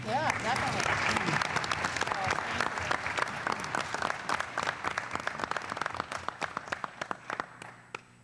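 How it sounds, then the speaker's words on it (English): A long round of applause fills a school board meeting hall, dense and steady for most of the stretch, then thinning into scattered individual claps before stopping. "Again, a round of applause for not only this fine 1982 student, but Mr. Charles Bailey."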